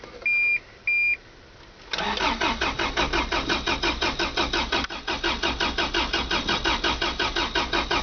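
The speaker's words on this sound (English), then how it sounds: "that was 1 week cold start. That's about how it starts all the time." A 2600cc Toyota Hilux engine cranks from a week-long cold start after two short warning beeps, the starter churning in rapid rhythmic pulses that build into a rough, loud idle.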